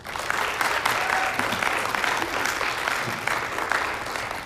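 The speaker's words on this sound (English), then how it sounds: "All right, give a round of applause for Mason and Becca." An audience applauds performers at a local music fest, a steady, dense clapping that holds evenly throughout with a few brief cheers mixed in.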